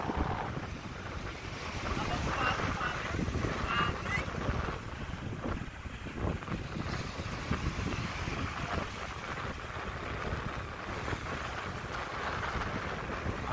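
A boat moves across open water with constant wind noise and lapping waves, the engine droning steadily in the background.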